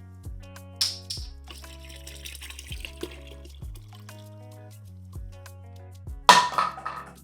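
Club soda, water and lemon-lime soda are poured into a container for party lemonade, giving short gurgling splashes and drips between low hums, ending in a brighter fizzy pour near the finish.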